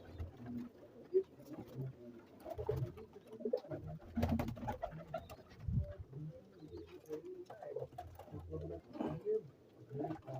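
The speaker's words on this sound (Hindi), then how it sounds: "ये कबूतर है दोस्तों" Pigeons in a loft coo in low, repeated throaty rumbles, several birds overlapping close by, with soft rustling and fluttering between calls.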